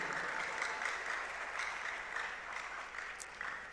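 A crowd applauds steadily at the closing ceremony of Ghana Digital Innovation Week 2023. The clapping is dense and even, heard faintly and at a distance as a continuous wash throughout.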